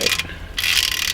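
A ratchet wrench with a 10mm socket tightens a fitting on a 2015 Chevy Cruze during an oil and spark plug change, giving two close, bright bursts of rapid clicking with a short pause between.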